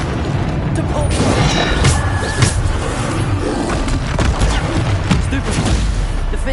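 Hogwarts Legacy combat sounds with the Depulso spell, a dense, continuous wash of magical blasts, impacts and crashes with no clear pauses.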